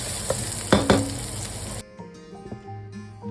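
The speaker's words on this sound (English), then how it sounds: "Over medium-high heat, saute the onion for 4 minutes, allowing it to become translucent and fragrant." Onion sautéing in a wok over medium-high heat, a steady close sizzle with a few loud stir scrapes near the start, then a quieter, thinner fry after a sudden drop in level.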